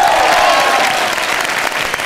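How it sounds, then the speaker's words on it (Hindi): Loud, sustained applause from a comedy show's studio audience, a dense wash of clapping that fills the whole stretch with a faint cheer riding on top early on. "जोरदार ताली।"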